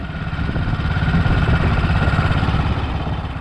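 A 1941 Matchless G3L WD wartime dispatch motorcycle being ridden, its single-cylinder engine thumping in a fast, even pulse, close and loud with a slight swell in the middle.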